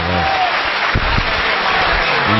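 An audience at an Urdu mushaira claps in a dense, continuous wash of applause that stays loud and even throughout.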